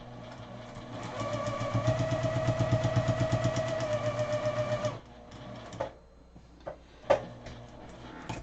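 A sewing machine stitches a quarter-inch quilt seam for a pineapple quilt, running in a fast, even mechanical rhythm for about five seconds, then stopping, followed by a few soft handling knocks.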